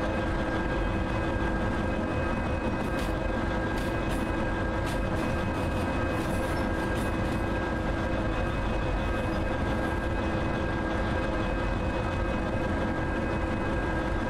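A loud ST44 diesel locomotive in the train simulator Derail Valley: a constant heavy engine drone with steady tonal hum and rumble, unbroken and close for the whole stretch, with no talking.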